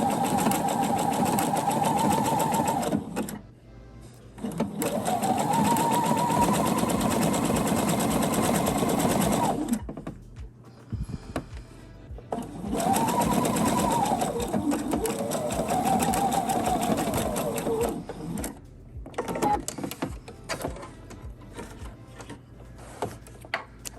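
A sewing machine stitches along a garment hem in several long continuous runs with short pauses between them, a steady close whirring hum that starts and stops.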